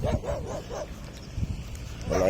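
A dog lets out a few sharp barks at the start and another bark near the end, with a person talking in between.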